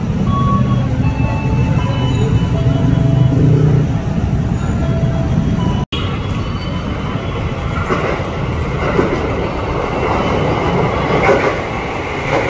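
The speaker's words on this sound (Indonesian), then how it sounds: "Jalur 1 segera masuk tujuan Cikini Juanda Jakarta Kota" A KRL Commuter Line electric train pulls into Cawang station in Jakarta, its wheels rumbling loudly and steadily with rail clatter and screeching, and short beeps sound early on.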